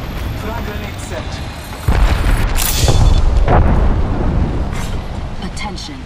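A frag grenade blows up in an Octane match, a loud, close boom that hits sharply and then rolls off into a long rumbling tail, with gunfire and game noise under it.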